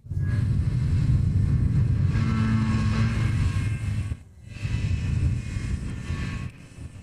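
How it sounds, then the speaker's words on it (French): A motorcycle engine revving hard and screaming, a loud continuous roar with strong low rumble that holds steady, cuts out briefly, then surges again, close and alone with no voices. "Le moteur hurle."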